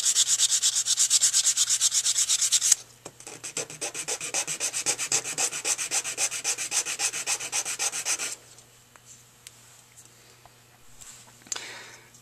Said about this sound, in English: And this is the second sanding.